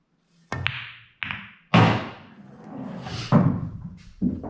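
Pool balls struck on a pool table, a series of sharp close knocks and thuds spaced irregularly, with a short rolling rumble between impacts.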